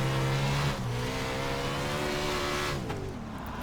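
A USAC 410 sprint car engine in the iRacing sim roars loudly and steadily, its harmonic drone dipping briefly as the throttle lifts and then holding a high, sustained rev, with a brief tire-squeal-like edge.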